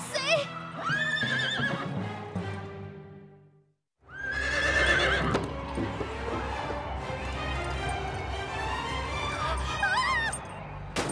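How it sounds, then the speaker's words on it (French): A loud horse whinny from an animated children's cartoon rings out, breaks off into a brief silence, then a second long neigh follows over rumbling hoofbeats and background noise. "Rosa Rodriguez sort des limites du parcours avec son cheval."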